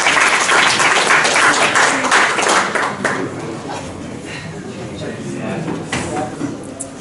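An audience in a workshop room claps in a dense burst of applause that fades after a few seconds, leaving quieter scattered taps.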